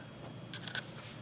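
Scissors or a rotary cutter slicing through quilting fabric for a log cabin block, a short close burst of crisp cutting strokes over quiet room tone.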